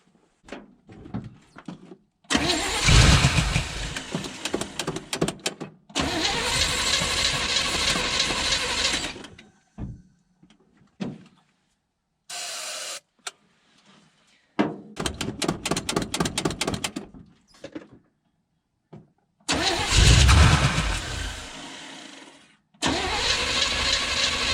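A 1975 Chevy C30 engine is cranked repeatedly to start: several loud, long bursts of churning starter noise separated by silent pauses, with brief clicks and clunks between attempts.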